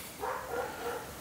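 A single upset dog gives a short, close bark-like yelp, brief and moderately loud, heard alone indoors.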